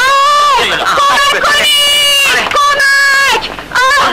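A woman screams loudly in an old Persian film, several long, piercing wails in close succession with short breaks between them.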